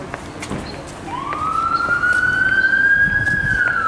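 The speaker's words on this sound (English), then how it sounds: "And the sirens of York." An emergency vehicle siren sweeps upward and holds a steady wail in a York street, fairly near and loud over a background hum of traffic and town noise.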